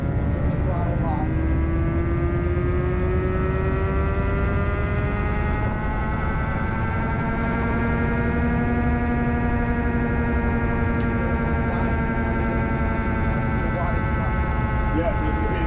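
Custom electric motorcycle running on a dyno at Daytona Bike Week, a steady rising electric whine with layered harmonic tones that slowly climb in pitch, loud and continuous over background crowd and machine noise.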